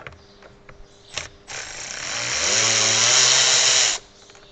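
A power driver backs T20 Torx screws out of the steering column clamshells on a fourth-generation Dodge Ram, a few clicks and then a loud, close whir that holds for about two seconds and stops abruptly.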